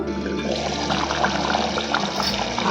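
Pot of fish curry (kuzhambu) boiling on the stove, a steady dense bubbling roar that holds at an even, fairly loud level throughout with no talking.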